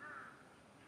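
A crow caws once, a short harsh call heard faintly at a distance over quiet outdoor background in a park.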